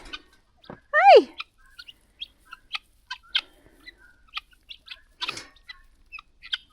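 Chickens nestled in fresh straw inside a cold-weather shelter give a loud rising call followed by scattered soft clucks and chirps, close by, with no talking.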